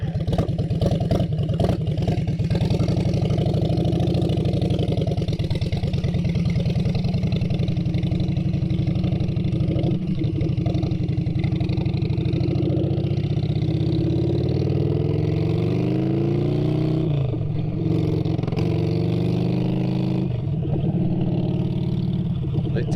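An Orange County Chopper motorcycle engine idles with the choke on, a steady, loud, continuous rumble that holds close and unbroken, with slight shifts in pitch toward the end.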